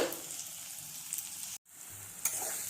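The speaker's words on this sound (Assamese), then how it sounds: "এইখিনি ভাজিব লাগিব, নহ'লে গন্ধটো থাকি যাব।" Ginger and garlic paste sizzles in oil in a pan, a steady bright crackle with a brief cutoff midway before the frying hiss resumes and a stirring clink follows.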